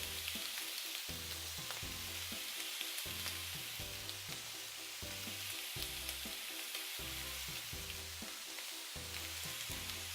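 Sirloin steak and tomatoes sizzle in a hot pan, a loud steady hiss with a rhythmic low knocking repeating underneath throughout.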